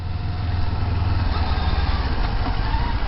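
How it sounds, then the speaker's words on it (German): Kawasaki Z400 motorcycle engine idling steadily close by, a continuous low rumble with even pulsing and no voices. "Motor läuft gut"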